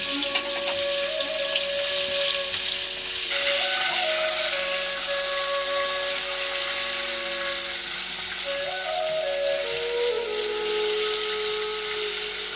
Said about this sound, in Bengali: মাছটা বেশি ভাজবো না, অল্প ভাজবো।